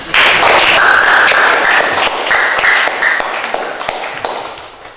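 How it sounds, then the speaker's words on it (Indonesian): Students in a classroom applaud together in a loud, dense burst of clapping that gradually thins and fades over several seconds. "kita beri aplaus bersama-sama"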